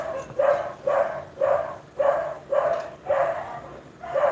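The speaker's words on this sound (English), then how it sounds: "And dogs." A dog barks steadily in repeated single barks, about two per second, fairly close and loud, with no talking over it.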